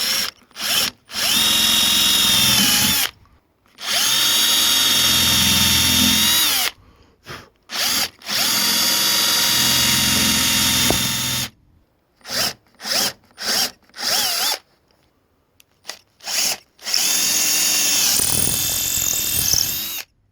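A power drill boring a small hole through epoxy on a sailboat on the hardstand whines in several sustained bursts of a few seconds each, separated by pauses, followed by a quick series of short stop-start pulses.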